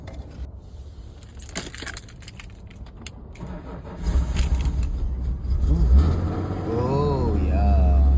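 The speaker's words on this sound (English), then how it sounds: "start the car" A BMW E36 that has sat unused for a while cranks and starts after its battery cable is reconnected, keys jingling first, then the engine catching and settling into a steady idle, close up, with brief talk nearby.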